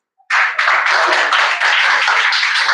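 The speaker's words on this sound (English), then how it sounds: "So now give a big round of applause for our other participants" A semi-final event audience claps loudly and steadily for a participant, a dense close burst of many hands sustained for a few seconds.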